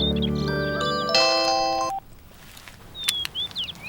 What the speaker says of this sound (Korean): 지금 종소리 아니야?